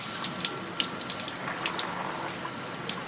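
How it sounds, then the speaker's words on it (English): Steady, hissing spray of a shower running in a clean facility, continuous and even with no pauses or voices. "Everybody that comes in takes a shower."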